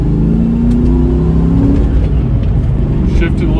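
A 1993 SVT Mustang Cobra accelerates at partial throttle, its engine rising in pitch with a steady, loud, close rumble from inside the car, while a voice talks over it.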